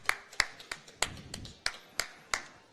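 Sparse claps ring out around a pool arena during a 10-ball masters match, individual sharp hand claps spaced roughly every third of a second, moderately close with a faint murmur underneath.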